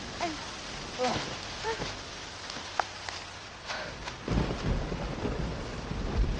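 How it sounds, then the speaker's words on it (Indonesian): Heavy summer rain pours down in July, with low rumbles and scattered sharp cracks of thunder, growing denser and louder toward the end. "Hujan ini tiba-tiba turun"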